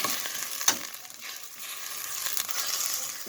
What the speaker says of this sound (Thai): เราก็เอาหมูมาใส่น้ำรวนนิดนึงนะคะ รวนให้มันสุกนะคะ